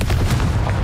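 A Confringo explosion spell cast in the game Hogwarts Legacy gives a short, loud, booming blast with a dense low rumble, alone and up close.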